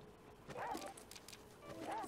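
Dogs in the video game The Flame in the Flood give a couple of short, faint barks and yips against a quiet background.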